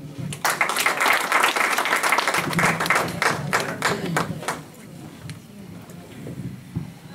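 An audience at a mushaira poetry gathering claps to welcome senior poet Masroor Brailvi, loud at first and then thinning out to scattered claps as a voice begins.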